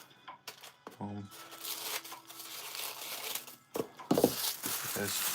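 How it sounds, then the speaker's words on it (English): Paper being crumpled by hand while packing mystery boxes, irregular crinkling bursts close to the mic, heard with a voice and other handling noises. "Just crumple them up."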